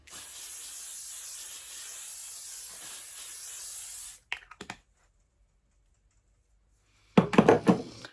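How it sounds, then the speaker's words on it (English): Hairspray sprays in one steady hiss for about four seconds, close and clear, followed by a few light knocks and clatters as the can is handled and set down. "Now we're going in with my hairspray."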